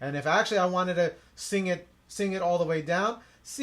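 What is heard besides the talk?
No everyday noises stand out.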